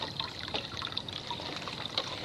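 A soft, steady trickle of water running and dribbling as a tree is watered, fairly quiet and continuous with faint splashy bubbling throughout.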